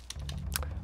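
Computer keyboard keys are pressed several times in quick succession while playing the PC game Mini Ninjas, with sharp close clicks over a low background hum.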